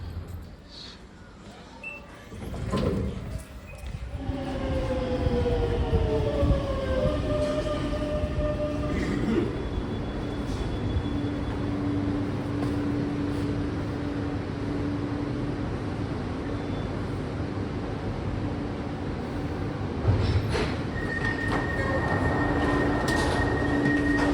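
A driverless metro train in Rome runs steadily with a low rumble and rising motor whine, brief door or brake tones, the hum continuing throughout.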